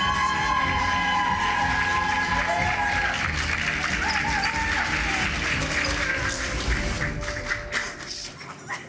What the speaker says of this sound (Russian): Почему вы так аплодируете?